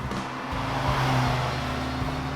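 A 2018 Polaris Slingshot SLR LE with a 2.4-liter GM Ecotec engine, droning steadily as heard from the cockpit, a close, loud engine note holding with small shifts in pitch.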